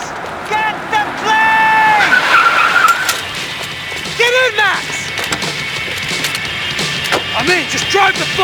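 In the Max Payne 3 video game, a car engine revs while tyres squeal and skid in repeated bursts. Shouting voices and gunfire-like cracks cut in over the loud, close driving noise.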